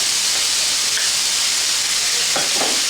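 Olives stirred into a sizzling chicken and vegetable quiche filling in a pan, with steady loud frying hiss throughout and faint scraping of the stirring utensil.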